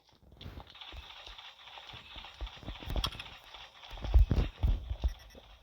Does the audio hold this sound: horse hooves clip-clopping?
yes